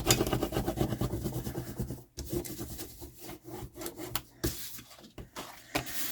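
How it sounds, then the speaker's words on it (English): Cardstock being burnished by hand in a papercraft project, a steady close scraping rub with quick rhythmic strokes and short pauses, fairly quiet. "And I'll burnish."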